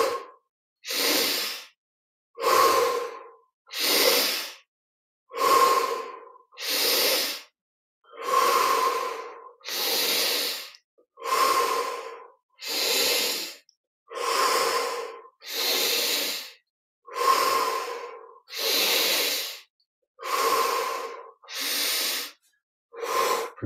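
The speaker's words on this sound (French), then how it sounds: "On va prendre 15 respires profondes." Deep, slow breaths during a guided meditation, each drawn in through the nose and let out through the mouth, repeating about fifteen times in an even rhythm, close and clear with no talking.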